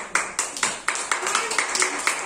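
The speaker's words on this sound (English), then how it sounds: "Okay, clap." Kindergarten children clap their hands in a classroom number activity, about ten sharp claps in an irregular, uneven rhythm, close and moderately loud with a faint voice in the background.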